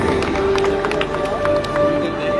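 Dense, steady applause and crowd noise fill a Bhojpuri film award show as actress Dimple Singh receives a Personality Award 2023, with a continuous clapping wash and faint tonal sounds beneath.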